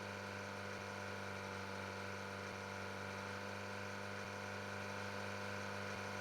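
Machine in Farming Simulator 22 giving off a steady, high-pitched buzz like a chainsaw, with a constant droning hum underneath and faint regular ticks, heard alone without any talk.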